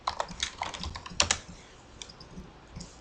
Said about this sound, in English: You have to type in your username and your password, which I'm going to do so right now.